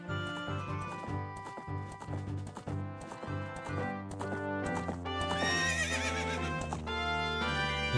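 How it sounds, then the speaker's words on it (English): A horse neighs in the video game Zelda: Ocarina of Time, its whinny rising over steady clip-clopping hooves and busy in-game music, loud and close without talk. "And now we have ourselves a fun horse."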